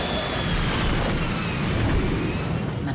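An airliner makes a rough landing, with a loud, unbroken, close roar of rumbling and jolting that stays dense and heavy the whole time.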